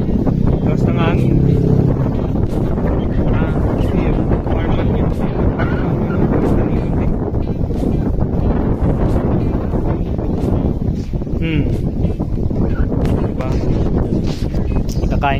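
Wind gusting across an open hillside viewpoint in Sañgay, Tiwi, Albay, buffeting the microphone as a steady loud roar throughout, with a voice talking over it.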